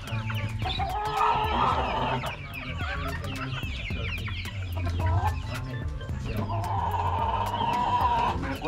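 Rhode Island Red and native chickens share one coop, clucking and squawking close by in overlapping bursts, with a rooster's crow-like calls rising through the flock noise.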